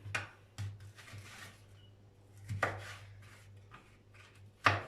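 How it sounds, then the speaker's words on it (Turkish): Frozen red kapya peppers are chopped with a knife on a board, giving a few sharp, separated cuts spread across a quiet stretch with a low steady hum underneath. "iki tane kapya biberim var. Hemen bunu doğruyorum"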